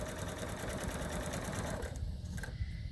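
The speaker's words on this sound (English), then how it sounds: "we're going to stitch directly on top of the line that I drew without going over a pin" A sewing machine stitching fabric texture blocks for a dementia lap pad, running in a fast, even mechanical chatter up close, then slowing and stopping.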